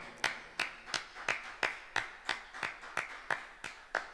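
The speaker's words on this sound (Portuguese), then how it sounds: "Dá só de palmas para ele, mano." Hands clap at a steady, even beat in a church, about a dozen sharp claps spaced roughly a third of a second apart, fairly close and moderately loud, with no talk over them.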